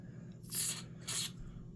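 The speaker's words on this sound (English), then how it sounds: "and just give it a little spray." Pro Long lubricant sprayed onto a Husky Pro first-generation pear-head ratchet: two short, close hissing bursts from the aerosol can, separated by a brief pause, over a quiet room.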